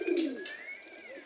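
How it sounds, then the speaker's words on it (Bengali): Kaldom pigeons coo softly and close by while being fed, a single low throaty coo followed by quieter warbling calls over about a second. "আজকে আমাদের কবুতরগুলোকে খাওয়াতে আসলাম"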